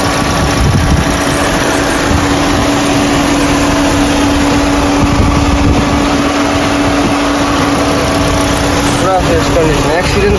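A used car for sale, shown in fresh condition, idles with its engine running as a steady, loud, even drone throughout, with no revving.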